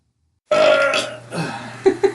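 A loud, close human burp erupts after silence, a drawn-out guttural belch followed by two short throaty bursts, with no talking over it.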